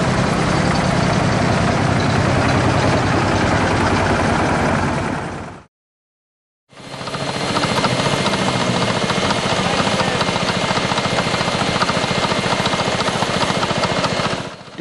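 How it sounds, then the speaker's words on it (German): A 22 hp Lanz tractor engine chugging at a field-day tractor meet, loud and close, a steady rumbling drone that cuts out briefly for about a second before resuming just as strong. "Der 22 PS Lanz tuckert seine Morgenmelodie und lässt die Säge weit über den Platz schallen."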